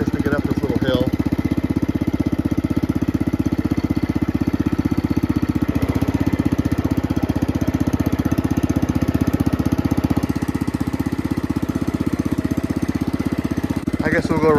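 Cub Cadet Original garden tractor engine pulling uphill in first gear, a steady loud single-cylinder chug running throughout with a rapid even firing rhythm.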